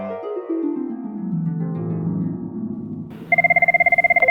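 A telephone starts ringing near the end with a rapid electronic trill of repeated pulses, loud and clear, after a stretch of low tonal music.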